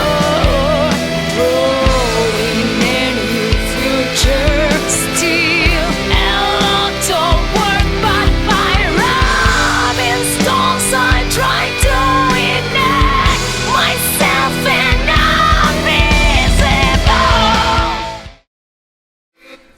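Full band music with a guitar solo, from a song made for a no-budget music video, playing loud and steady for about eighteen seconds before cutting abruptly to silence.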